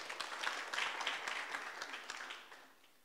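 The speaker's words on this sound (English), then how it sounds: "Let's give them a round of applause." Soft, distant applause at a book launch, a crowd clapping steadily and then tapering off, quiet throughout.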